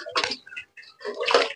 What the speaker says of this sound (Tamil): கைஸ் வாங்க முகத்தை கழுவிட்டு போயிடலாம்.